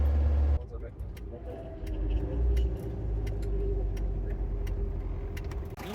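Car rolling slowly down a long descent on a Honduras road, the engine a steady low rumble with road noise throughout, and occasional light clicks and rattles inside the cabin.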